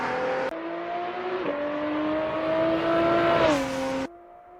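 A Lotus race car accelerates hard and close, its engine note climbing steadily with a couple of gear changes before easing off near the end.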